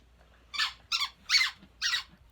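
A dog's squeaky toy squeaks four times in quick, evenly spaced bursts, close and fairly clear over a quiet indoor background with no talk.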